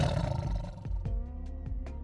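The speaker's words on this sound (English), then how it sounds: "This asthmatic tiger, I really like that sound a lot." A wheezy, breathy roar that rises and falls with harsh rasping bursts, loud and close, heard alone.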